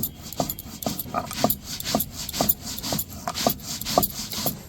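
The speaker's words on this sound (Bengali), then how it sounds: "আতপ চালটা ঘরে ছিল তাই আমি বেটে নিচ্ছি" Soaked raw rice is ground by hand on a traditional grinding stone, a rough rhythmic rasping with regular strokes about every half second, close and steady, with no voices.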